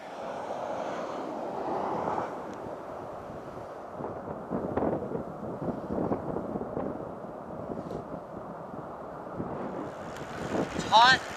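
Strong hot wind buffets the microphone outdoors in gusty, rumbling waves that rise and fall throughout, with a faint voice buried under the roar.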